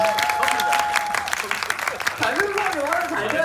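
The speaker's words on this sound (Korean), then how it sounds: "박수 한번 주세요" A film talk event audience breaks into applause, a dense wash of clapping under a host's voice speaking over it, loud and close throughout.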